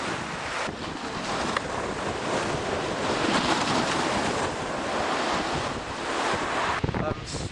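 Rough sea waves surge continuously against the sea defences on the coast at Clacton, a loud, steady roar of surf with heavy wind buffeting the microphone throughout.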